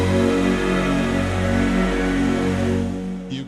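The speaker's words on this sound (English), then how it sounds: "Apple sound designer Jim Reeks, modified this particular patch, Sandman, to do the Apple startup chime" A Korg Wavestation synthesizer's Sandman patch, reprogrammed to play the Apple startup chime, holds one rich, sustained chord alone and loud, with bright shimmering upper tones, thinning slightly toward the end.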